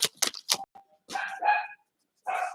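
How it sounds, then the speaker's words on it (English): A dog barks several times close by in short sharp bursts, followed by a pause and then a couple more yelping barks, with no talking over it. "Dog's going to be barking."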